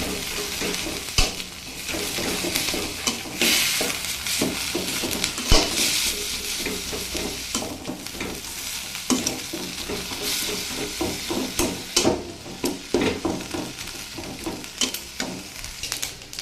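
Red amaranth leaves stir-fry in a pan of hot oil with a steady, loud sizzle, while a metal spatula scrapes and chops through them in quick, uneven taps that grow sharper toward the end.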